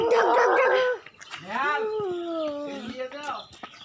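A village dog in rural Bengal gives a run of yelping, whining barks and a drawn-out howl-like whimper, fairly close and moderately loud, with a few breaks between calls.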